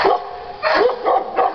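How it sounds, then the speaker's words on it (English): Three or four loud, close barks from a 60-pound, one-year-old dog eager for treats, sharp and evenly spaced in quick succession. "can be a noisy dog"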